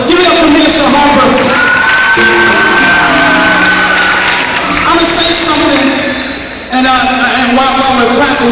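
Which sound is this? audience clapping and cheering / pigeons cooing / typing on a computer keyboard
audience clapping and cheering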